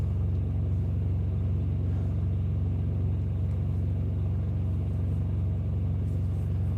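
Old truck engine idling after start-up, a steady low rumbling drone with a faint rhythmic pulse, continuous and close with no talking over it.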